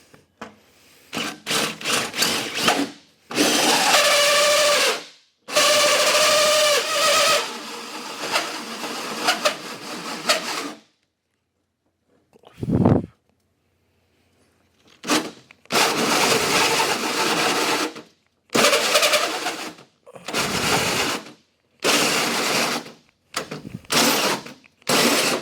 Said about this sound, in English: that's my drill burning up